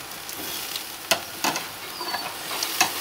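Flank steak and peppers sizzle softly in a pan as they are flipped, a steady low frying hiss broken by several scraping, clattering turns of a utensil.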